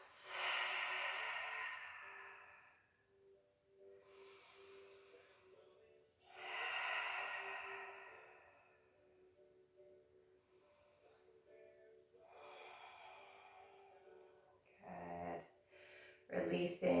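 Slow, deep breaths during a yoga hip-opening stretch: long airy exhales and inhales rise and fall in a steady rhythm, close and soft, followed by a few brief clicks and rustles near the end.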